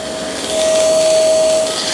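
A Tikom V500 cordless vacuum cleaner running on high mode over carpet, a steady close whoosh of motor and airflow with a thin whine that rises slightly in loudness after the first half second and then holds.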